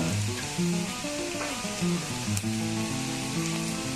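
Garam masala powder goes into a hot pan of sizzling oil and meat for a cocktail and salami chilly fry, a steady close crackle and hiss throughout with faint stirring clinks.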